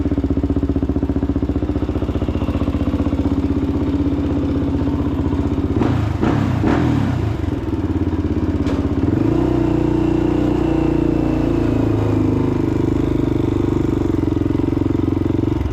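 A Honda TRX416EX ATV engine on a test ride, loud and close, running with a steady chugging drone, a brief burst of clatter midway, then a lower, rougher engine tone.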